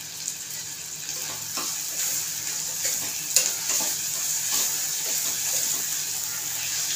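A small amount of onion-coconut masala paste sizzles in a pan for cauliflower-potato curry, a constant soft frying hiss broken by a few light stirring scrapes, with no speech.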